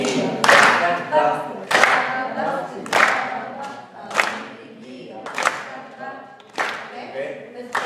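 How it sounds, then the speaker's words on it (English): An audience at a Passover Haggadah program claps in a slow, steady rhythm while singing together, with about six loud group claps spaced roughly a second and a quarter apart under the voices. "just clap your hands and be like that."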